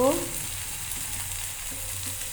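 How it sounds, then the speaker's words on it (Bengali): Chop mixture with chopped onion and spices frying in a pan, a steady close sizzle with the scrape of stirring at the start, continuous and even throughout. "এবার অল্প নাড়ব"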